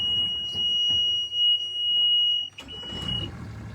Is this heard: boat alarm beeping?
yes